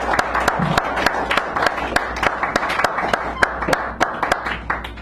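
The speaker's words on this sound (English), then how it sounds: "So now we can give her a nice round of applause." Audience applause at a poetry reading in a small cafe, a modest group clapping with distinct individual claps, fairly close, with a few voices underneath.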